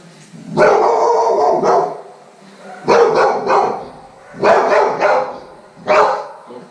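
Dog barking in a training session, four loud close bursts of barks in a rough rhythm with short pauses between them.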